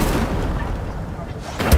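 Incendio fire spell cast in Hogwarts Legacy, a dense, roaring burst of fiery noise sustained throughout, with a sharper flare near the end.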